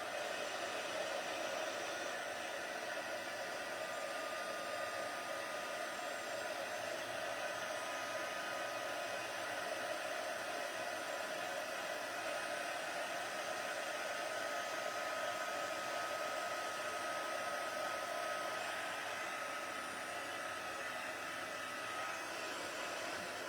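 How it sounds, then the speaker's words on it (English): A heat embossing gun blows hot air onto a card label, a steady loud whooshing roar that holds unchanged for the whole stretch with no talking. "I'm just going to heat emboss our label."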